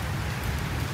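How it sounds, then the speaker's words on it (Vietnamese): Rain falls at an archaeological site in Hanoi, a steady, dense hiss of drops on surfaces throughout. "Tự nhiên lại ở đây lại vừa mưa vừa lắng đấy mọi người"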